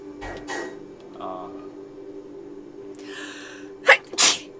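A single sharp sneeze bursts out near the end, close and loud, after quiet conversation over a steady electronic hum while playing The Witness.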